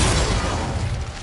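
A Confringo fire spell explodes in Hogwarts Legacy, a dense roaring burst of blast noise that fills the short moment and tails off, close and loud with no talk.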